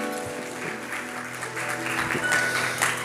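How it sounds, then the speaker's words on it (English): Audience applause in an improv theater after a guest is introduced at a medical symposium, a steady wash of clapping with faint voices mixed in, moderately loud throughout. "Give him a round of applause for joining us today."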